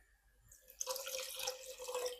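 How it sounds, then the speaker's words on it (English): Water, 300 ml, poured into a cooking pan of chili-spiced tandoori chicken pasta sauce over a high flame, a steady splashing stream that starts abruptly and runs on loud and close without talk. "And now I'm going to add"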